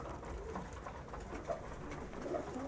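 Pigeons coo softly during a morning feeding in a loft, low and muffled, with a few brief cooing calls over a steady background of shuffling and rustling.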